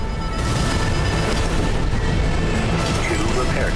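Heavy, continuous blasts of shotgun fire from a mech in Armored Core VI, a dense, loud, booming wash of low-end impacts with no pause and a voice faintly underneath.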